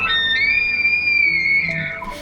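An American elk bugles during the rut, a high, flute-like call sustained for about two seconds, clear and whistling, with a lower tone and grunt near the end.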